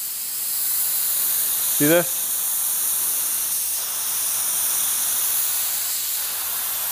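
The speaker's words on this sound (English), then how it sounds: "I'm gonna spray a little bit closer." Steady broadband hiss of a spray gun spraying clear coat runs throughout, with a brief spoken phrase partway through.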